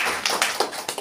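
A short burst of audience applause at a gathering in Central Papua, several sharp claps rising over a steady crowd wash for about a second, close and fairly loud.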